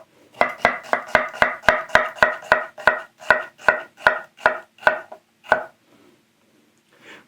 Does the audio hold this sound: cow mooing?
no